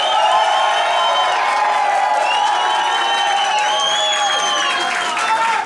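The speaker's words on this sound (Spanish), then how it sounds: "solo aplausos, nada de gritos" Studio audience of a Chilean-style talent show applauding and cheering after contestants are named, a dense steady wall of clapping with whoops and shouts throughout, loud and close.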